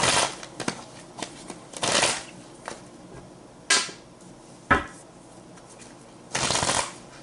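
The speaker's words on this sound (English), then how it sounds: "And what you hear on the side is my little dice." Several short bursts of small dice rattling and clattering, spaced apart with quiet gaps between.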